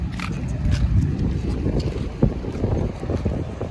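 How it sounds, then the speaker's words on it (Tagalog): A boat moves over rough, choppy sea, with a constant loud rumble of engine, water and buffeting wind noise close to the microphone throughout. "Oh, tignan mo yung bangka oh."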